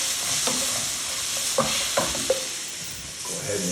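Pork for chili verde browns in a hot pan, a constant close sizzle with a few clinks and scrapes of the utensil against the pan.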